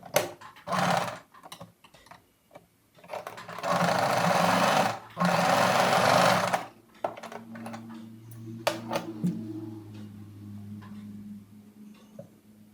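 A sewing machine stitches the square neckline of a nighty in short bursts, with two longer runs in the middle, followed by ticking and clicking as the needle is set and the fabric turned.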